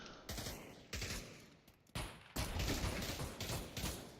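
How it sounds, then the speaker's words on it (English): Rapid bursts of gunfire and sharp explosive bangs ring out in a Pavlov VR competitive match, loud and clustered with short gaps between volleys. "Grenades exchanged."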